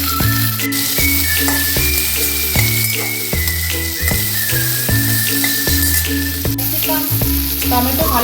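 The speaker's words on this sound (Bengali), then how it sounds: "এগুলোকে একটু ভালোভাবে ভেজে নেব" Chopped capsicum and tomato fry in a pan for pav bhaji, giving a continuous, close hissing sizzle over a steady, rhythmic tonal background.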